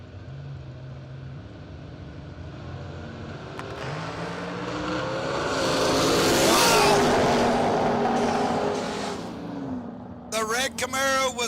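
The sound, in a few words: race cars on track, first-gen Camaro passing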